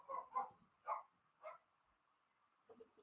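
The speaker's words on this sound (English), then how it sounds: "My dogs are going nuts right now." Several house dogs bark a few times, sharp and faint, with short gaps, as if from another room. Quiet lulls come between the barks.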